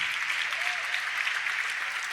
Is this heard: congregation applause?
yes